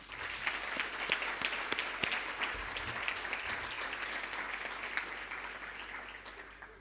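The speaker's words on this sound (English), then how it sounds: "Please give our sponsors a round of applause." Audience applause for sponsors at a school awards ceremony, a steady wash of many hands clapping with scattered sharper claps, moderately distant and sustained throughout.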